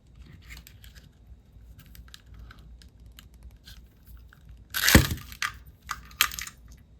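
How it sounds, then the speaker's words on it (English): Wire cutters snipping through a small chain link during a craft project, one sharp close snap, then light metallic clicks and handling noises over quiet background. "I need my wire cutters to cut a link off."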